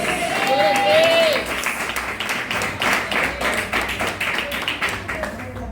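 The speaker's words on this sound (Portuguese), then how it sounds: "Quem crê, glorifica com as palmas." A church congregation claps during a Portuguese-language sermon, with uneven, rhythmic hand claps rising and falling over a musical tone and some voices.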